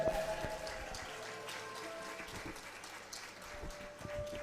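An audience claps at a school graduation ceremony, a quiet, distant patter of hands under faint sustained tones, with no voices.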